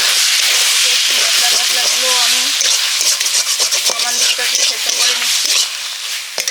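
Bottle gourd with shrimp (lau chingri) cooking in a pan, a loud close sizzle with repeated scraping and clattering of stirring throughout, easing off toward the end, no talk.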